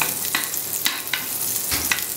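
Butter foaming in a very hot, smoking pan before veal kidneys are seared, a constant soft sizzle punctuated by a few sharp crackling bursts, close by and alone.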